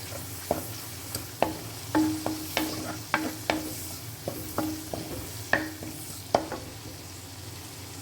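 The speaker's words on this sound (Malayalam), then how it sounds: "ഞാൻ അതിലേക്ക് കുറച്ച് കറിവേപ്പിൻ്റെ ഇല ഇട്ട് കൊടുക്കാം." Curry leaves crackling in hot oil with ginger, garlic and fennel seeds, a constant bright sizzle punctuated by regular sharp knocks and scrapes of a spoon stirring the pan, close and fairly loud.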